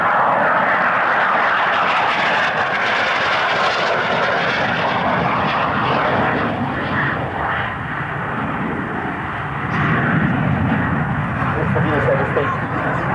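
A Harrier jump jet with a Rolls-Royce engine flies at an RAF Coningsby airshow, its loud continuous roar and whine sweeping past and rising again, while an announcer talks over it.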